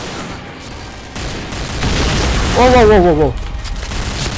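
Rapid M4A1 rifle fire from the Point Blank video game crackles in a dense burst under a player's brief exclamation, growing louder over a few seconds.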